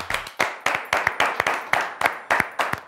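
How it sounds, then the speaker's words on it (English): A small group of children claps in a brief round of applause for a classroom team, with sharp separate claps in loose bursts, close and fairly loud. "let's give them a round of applause"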